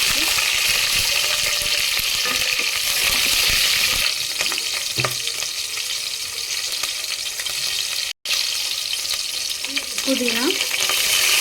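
Mace, bay leaves and green chillies fry in a pan of hot oil, a loud steady sizzle running throughout, broken by a brief gap and stirring scrapes.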